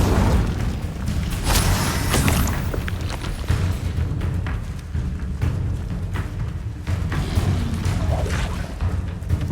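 The Incendio fire spell is cast in Hogwarts Legacy, giving loud, booming whooshes of flame with heavy low rumble and repeated bursts over a busy game soundscape.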